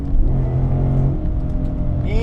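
A 670 hp Roush Stage 3 Mustang GT with Roush catback exhaust accelerating hard, its engine roaring loud and close with a deep, sustained rumble that rises in pitch toward the end.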